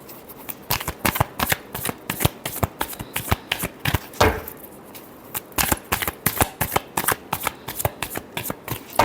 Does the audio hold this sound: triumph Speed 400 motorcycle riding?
no